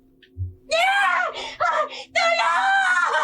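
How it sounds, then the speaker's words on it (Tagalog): A woman screams in a dramatized horror story about an aswang, with a soft knock first and then several shrill, piercing cries in quick succession, loud and close. "Maya-maya'y may narinig sila na sigaw ni Nami."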